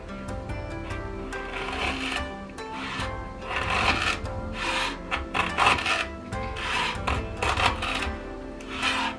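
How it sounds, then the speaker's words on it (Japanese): A knife slices peeled ginger on a cutting board for simmered mackerel in miso, steady rasping cuts with rhythmic taps, close and fairly loud, over faint background music. "皮を剥くことができたのでスライスしていきます。"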